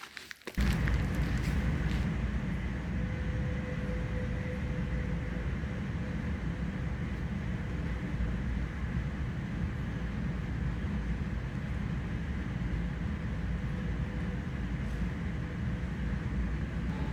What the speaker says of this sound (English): we are now on a train direction Antwerp